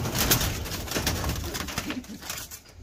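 A racing pigeon coos in soft, repeated throaty phrases close by, with light rustling and background noise and no talk.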